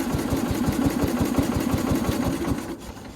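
A 1969 Bolens FMC Husky 1053 garden tractor engine idles with a rapid, even chugging beat, close and steady, faltering slightly near the end as it settles.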